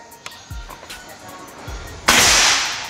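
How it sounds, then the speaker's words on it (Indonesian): Light clicks and thumps, then one sharp air rifle pellet shot that releases a sustained hiss trailing off. "Kita akan coba lagi tembakan yang ketiga."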